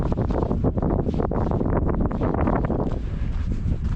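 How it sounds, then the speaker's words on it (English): Strong wind buffets the microphone with a continuous roaring rush, gusting unevenly throughout. "It is windy today."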